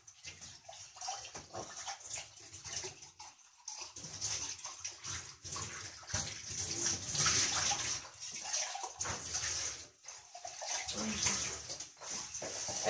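A flowing rush of water pours steadily from a tap into a container, filling it with drinking water in a home, continuous and fairly close with some gurgling.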